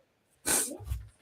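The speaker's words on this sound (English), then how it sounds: "Great, start the show sneezing." A single sharp human sneeze bursts out close and loud, followed by a brief breathy snort as it trails off.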